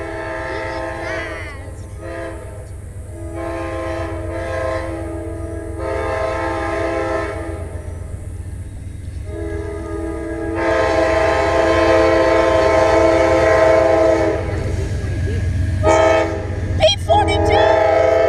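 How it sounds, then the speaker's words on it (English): An Amtrak Auto Train led by a P42 locomotive rolls past in Folkston, its loud multi-tone horn blaring in repeated long blasts over the rumble of the train, and voices talk excitedly close by. "P42 in the front engine of Auto Train!"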